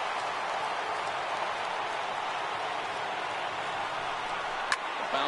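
Stadium crowd of about 39,000 roaring in a baseball video game, a steady dense wash of cheering with a brief sharp click near the end.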